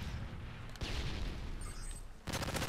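Automated sentry gun fire in the shooter Modern Warfare 3 on a Kill Confirmed match, dense rapid bursts of gunfire with booming impacts, a short lull, then another loud burst near the end.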